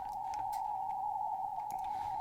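A steady VLF radio carrier tone holds unbroken as a pure hum over faint static crackle, with occasional soft clicks.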